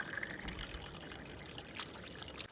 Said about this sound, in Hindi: यहाँ पर एक पहाड़ी जलधारा है